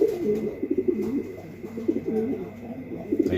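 A male checker racing pigeon coos nearby in a loft, repeated soft throaty rolling calls in a steady rhythm, with no talking.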